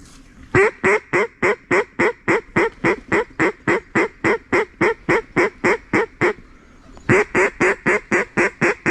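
Ducks quacking during a duck hunt as they come in to land, a long run of loud, evenly spaced quacks in a steady rhythm that break off briefly, then resume just as strongly.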